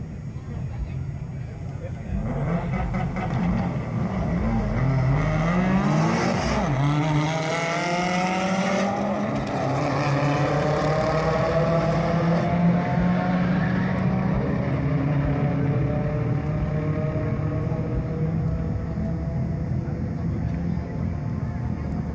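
Subaru WRX cars launch at a late-night drag strip, a loud engine roar with rising gear-change sweeps that fade into the distance, while a commentator talks over the racing.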